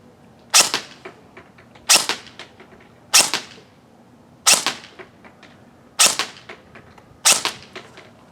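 Lancer Tactical Gen2 M4 airsoft rifle with a metal gearbox firing six sharp, evenly spaced single shots, each a crisp snap about a second apart, loud and close with no talking.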